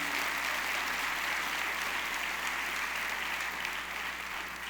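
A church congregation gives a long, steady round of applause to God during a service, a dense even wash of clapping that holds at the same level throughout with no talk over it.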